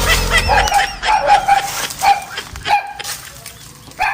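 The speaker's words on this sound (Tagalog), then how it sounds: "maingay lang yung mga aso" Dogs bark and yip repeatedly at mid distance, a busy chorus of several animals overlapping, with faint voices and background noise underneath.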